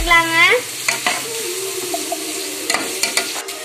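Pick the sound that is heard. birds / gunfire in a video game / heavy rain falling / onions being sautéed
onions being sautéed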